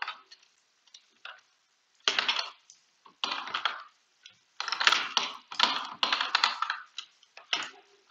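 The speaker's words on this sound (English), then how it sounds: "maybe this is why people say my keyboard is loud." Clattery computer keyboard typing in quick bursts separated by short pauses, close and crisp with no voices.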